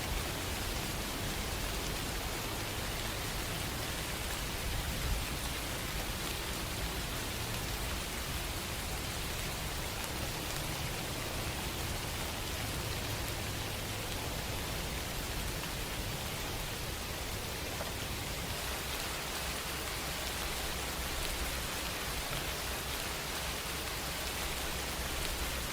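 Steady rainfall hisses evenly and continuously, a dense broadband wash with no distinct drops standing out, moderately soft and unchanging throughout.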